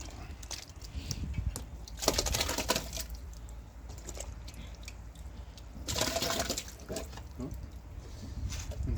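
Water drains and trickles out of a wet paper-pulp mix packed into a homemade briquette press, with scooping and knocking noises and louder splashy bursts about two and six seconds in, fairly close.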